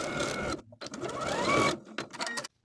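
A sewing machine edge stitches a ruffle sleeve top in quick close bursts of whirring, broken by brief pauses between runs.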